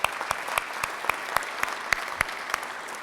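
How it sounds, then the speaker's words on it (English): Applause at a Rotary club meeting honoring previous Jefferson Award winners: a soft, distant wash of many hands with a few sharper individual claps standing out at irregular intervals. "let's give them a round of applause"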